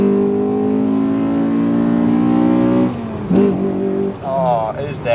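A Honda Accord Euro R with a swapped K20/K24 engine revs hard and loud in one steady climb toward redline for about three seconds, then drops off, and someone talks excitedly over the fading engine.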